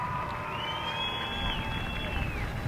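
A crowd at a 2024 high school homecoming football game (OHS vs EP Eastwood) cheers for the homecoming court: a steady, loud wash of crowd noise with high whistles or shrill shouts rising and falling across it.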